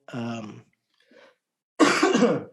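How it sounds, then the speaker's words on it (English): Two coughs, a short one and then a harsher, louder one after a pause, close up with a faint throat sound between them. "That's not a COVID cough."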